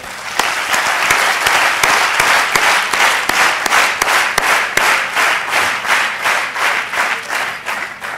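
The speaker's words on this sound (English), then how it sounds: "so let's clap for them" Audience clapping at a corporate HR event, a loud sustained burst of applause from a room full of people, with strong individual claps cutting through the dense patter before it gradually eases.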